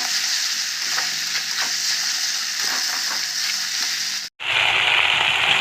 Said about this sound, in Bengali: তেলটা দিয়ে দেখুন ভালো করে কষিয়ে নেব